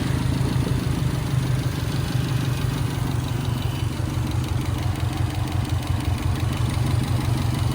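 A freshly rebuilt Subaru WRX engine idles close by with a steady, even low rumble and no stumbles, running continuously without any voices.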